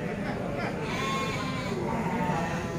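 A breeding goat bleats over a steady, dense background of barn noise, the call fairly close and rising briefly above the constant din.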